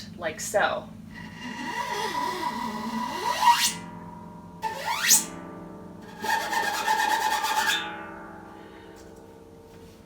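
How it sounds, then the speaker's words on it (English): A metal object is scraped vertically along harp strings in three or four grating, sweeping strokes, close and resonant. A person speaks briefly between the strokes. "I can also take a metal object and scrape it vertically along the strings, and it sounds like a grating sound"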